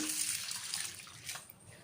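Water is poured from a tap or jug into a bowl holding one cup of chana dal, a short, soft splashing stream under two seconds long.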